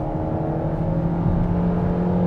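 A D-segment sedan's short-stroke engine held at high RPM gives a steady, smooth droning hum with a gentle rise in pitch and no other sounds.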